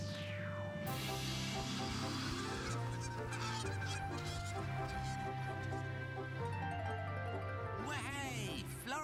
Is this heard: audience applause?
no